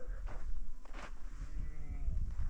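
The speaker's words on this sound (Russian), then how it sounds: "Бараны пасутся." Rams grazing in the desert bleat a few times at moderate distance over rumbling wind and outdoor background noise.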